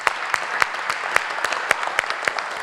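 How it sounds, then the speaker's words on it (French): Scattered applause from a conference audience after the closing remarks, with distinct claps ringing out over a steady wash of hand noise, moderately loud and close, no voices. "je voudrais qu'on l'applaudisse, à Mme Patricia Audibert,"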